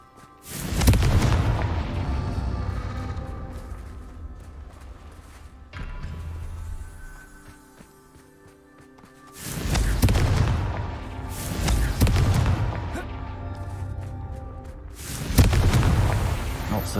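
Fiery Confringo spell blasts from a Harry Potter video game: several loud, booming explosive bursts with rumbling tails, spaced over the span, a mid-volume crackling lull between them, and heavy impacts returning near the end.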